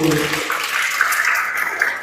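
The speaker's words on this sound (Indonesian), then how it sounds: "Tepuk tangan dulu" Audience applause at a school education event in Surabaya, a steady wash of clapping from a crowd that holds evenly for a couple of seconds, with a voice speaking briefly at the very start.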